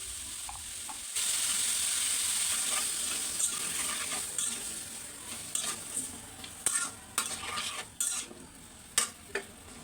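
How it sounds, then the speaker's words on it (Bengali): Potatoes sauté in a pan with turmeric, chili powder and salt, a steady sizzle rising after a second, then a spatula stirring and scraping in irregular clicks and knocks, close but moderately soft. "তারপরে দিয়ে দিব হলুদের গুঁড়া, মরিচের গুঁড়া, স্বাদ মতো লবণ দিয়ে ভালো করে কষিয়ে নিব।"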